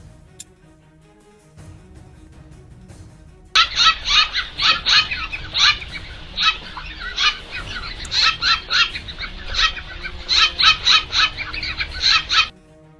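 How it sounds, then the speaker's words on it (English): Birds squabble as one bullies another, a run of loud, harsh honking and clucking calls in rapid bursts over a quiet background, close to the microphone. "This is one of my favorite birds bullying another one of my favorite birds."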